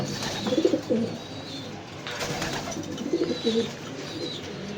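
Racing pigeons cooing at home, soft low throaty coos in two short bursts separated by a pause, close and fairly quiet against faint outdoor background noise.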